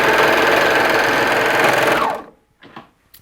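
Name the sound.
serger sewing elastic onto a leotard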